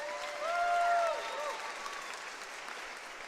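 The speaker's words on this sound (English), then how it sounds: "let's give her a big round of applause" A graduation crowd at a commencement ceremony applauds in a steady, soft, continuous wash of clapping heard from a distance, with a brief tonal swell partway through.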